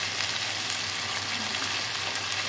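Chopped tomato pieces frying in a pan of oil for Nellore-style fish curry, a steady, loud, close sizzle that runs unbroken throughout.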